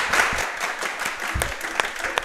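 A crowd at a coaches' show applauding the Georgetown Eagle head coach, steady dense clapping from many hands at moderate distance, with a few sharper individual claps standing out.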